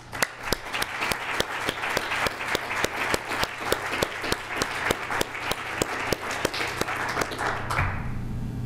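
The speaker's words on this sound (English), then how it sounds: "One last applause." An audience at a talks event, the Tomlinson Talks, applauds steadily for about eight seconds, dense crowd clapping with a few sharp louder claps standing out, then fading out abruptly near the end.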